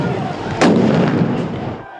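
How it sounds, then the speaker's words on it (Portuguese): A police officer fires a gun into the air during a clash with protesters, a single loud, close blast whose rumbling boom echoes and fades over about a second. "Um deles atirou para o alto."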